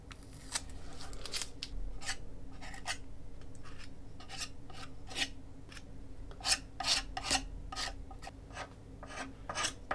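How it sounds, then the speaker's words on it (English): Tape strips are pulled and torn repeatedly in short, crisp rasping bursts while being laid onto a mixed-media pop art portrait, close and quiet with no talking. "Let's do some taping to make it a bit more interesting."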